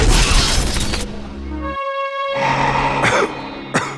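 Violent, harsh coughing from Bruce Wayne in an animated Batman cartoon, as he rips off his mask, heard as a loud ragged burst of coughs, then a brief tonal pause, then more strained coughing and gasps.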